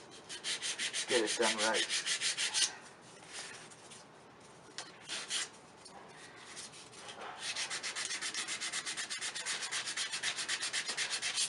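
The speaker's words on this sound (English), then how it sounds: "I'm done with the sanding." Sanding a wooden ring dish, a steady rhythmic rubbing rasp that pauses midway, with a short spoken remark, then resumes in even repeated strokes.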